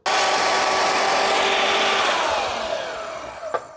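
A power saw cuts through a metal part for a custom brake pedal on a 1936 Chevy, a loud steady whine lasting several seconds that slowly winds down, ending in a brief sharp knock near the close.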